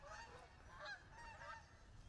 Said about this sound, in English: I hope that these geese shut up.